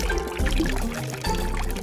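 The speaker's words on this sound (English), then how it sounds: "Can't forget to water them!" Water pours steadily from a close source onto seeds in a pot of soil, a continuous wet rush lasting under two seconds with no voices over it.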